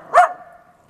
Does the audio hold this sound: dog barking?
yes